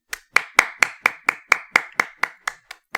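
Steady hand clapping, about a dozen sharp, close claps at an even brisk pace, alone with no talking.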